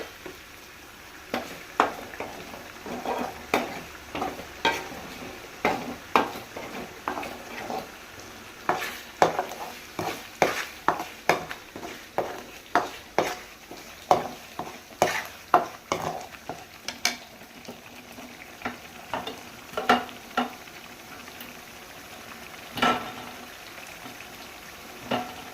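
Masala for Tuticorin-style prawn pickle cooks in a pan, with a spatula scraping and stirring in an uneven, repeated rhythm over a low, constant sizzle, close and moderately loud, with no talking.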